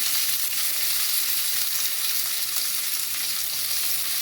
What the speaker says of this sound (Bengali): ক্যাপসিকামটা মটরশুঁটিটা ভাজা ভাজা হোক